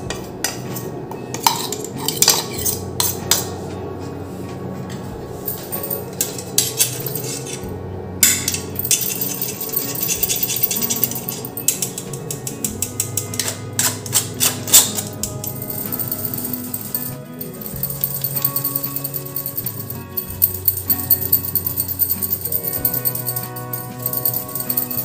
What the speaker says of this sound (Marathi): आता मी तो मैद्याच्या गाळणीने गाळून घेते